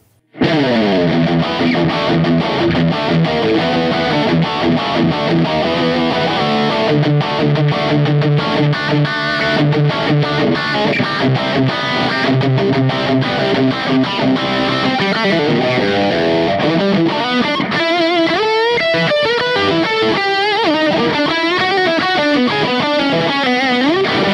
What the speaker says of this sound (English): the last bank are 4 lead tones